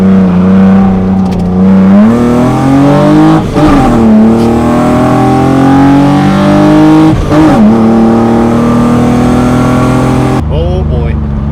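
Steady loud engine drone of a car in busy Christmas Eve traffic, with pitch rising and falling as it accelerates and shifts, and brief whooshes of other vehicles passing close by.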